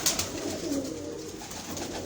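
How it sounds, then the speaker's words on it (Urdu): A pigeon coos softly in the morning air at a pigeon-flying gathering, its low murmuring calls running steadily for a couple of seconds against faint outdoor background noise, with no talking. "یہ کبوتر جو ہمیں ابھی دکھایا ہے جی, ابھی صبح کا ٹائم ہے جی"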